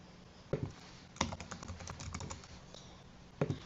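Keys on a computer keyboard tapped to enter a password, a few quiet, scattered clicks with short pauses between them, heard alone at close range.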